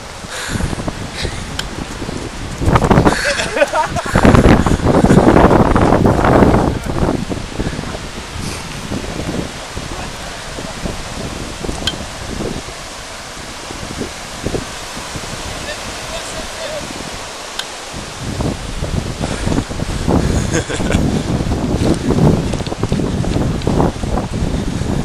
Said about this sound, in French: le son des vagues avec.